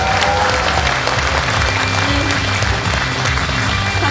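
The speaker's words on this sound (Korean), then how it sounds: "박수 부탁드립니다" A studio audience at a Korean political talk show breaks into steady, full applause, a dense continuous clatter of many hands filling the room without a break.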